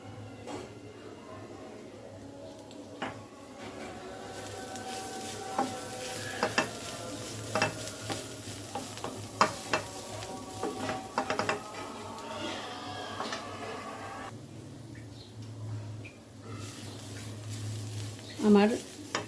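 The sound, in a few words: stirring bottle gourd peel frying in pan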